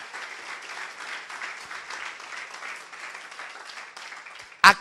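A church congregation applauds steadily, a dense patter of many hands clapping, ending with one loud sharp clap close by.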